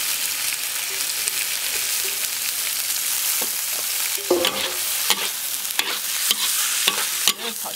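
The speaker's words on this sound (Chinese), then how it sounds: "再把木耳下进去" Wood ear mushrooms stir-fry in a hot wok with lean pork, a constant bright sizzle broken by sharp scraping strokes of the spatula, close and loud without any voices.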